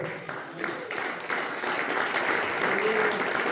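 A church congregation applauds loudly and steadily through the whole stretch, a dense, continuous clapping with no words spoken.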